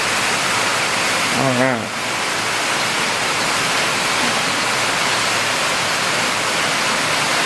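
Water pours down like rain inside a shop, making a dense, steady hiss that runs the whole time; one brief spoken word comes near the start.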